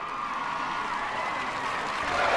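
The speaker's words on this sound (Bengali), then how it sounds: "একটা জোরে হাততালি হোক ওর জন্য।" An audience applauds for a stage magician, a steady, dense wash of clapping from a crowd that holds evenly and swells slightly at the end, with no clear voices over it.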